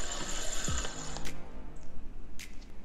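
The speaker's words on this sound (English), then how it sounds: "does your Shimano sound like this?" Shimano Vanquish spinning fishing reel with a noisy, worn line roller, giving a close gritty mechanical grinding and clicking as it turns, with a few sharp ticks, alone without talk.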